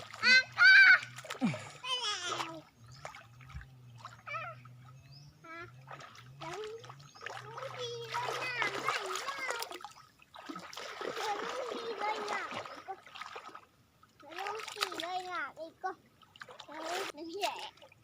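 People wading into water to gather snails, with scattered splashes and trickling beneath frequent lively talk, including children's voices, throughout.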